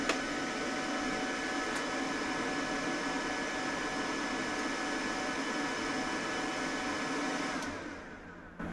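An ARCCAPTAIN MIG205MP multiprocess welder winding down after being switched off, a steady loud fan-like whir with a machine hum that holds for several seconds, then drops away near the end.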